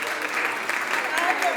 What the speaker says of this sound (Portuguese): elas aplaudiram